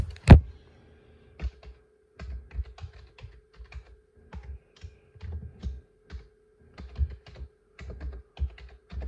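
A password is typed by hand on a keyboard while setting up a new Dell OptiPlex 7090 small-form-factor desktop: irregular bursts of close, crisp key clicks after one sharp opening knock, over a faint steady hum.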